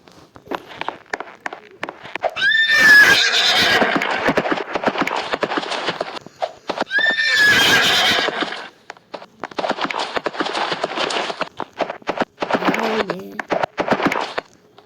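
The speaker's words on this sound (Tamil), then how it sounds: "குதிரை ஃபாஸ்ட்டாகவே ஓட மாட்டேங்குது" A Roblox game horse whinnies twice in loud rising bursts, with rapid galloping hoofbeats and clattering game sounds filling the gaps between them.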